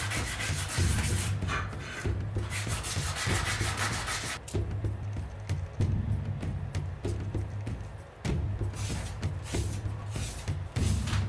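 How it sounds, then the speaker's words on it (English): A metal shield boss being scuffed with 80 grit sandpaper: steady, rhythmic rubbing strokes in close repeated bursts, with brief pauses between passes. "So we're hitting it up with 80 grit sandpaper. We're gonna scuff up that surface"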